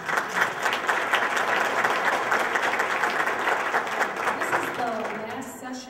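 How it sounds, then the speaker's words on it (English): An audience at a Curbside Chat talk in an economics and sustainability series gives a full round of applause, dense and fairly loud, tapering off near the end as a voice starts to speak. "So please, a round of applause for our generous."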